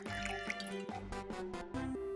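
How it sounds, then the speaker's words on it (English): Liquid drips and pours in a scene from the game Goddess of Victory Nikke as sips of water are given, soft trickling sounds layered under steady music with sustained tones. "I give her a few sips of water"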